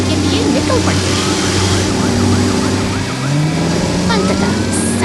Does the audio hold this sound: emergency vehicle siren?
yes